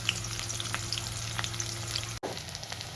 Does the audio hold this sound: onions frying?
yes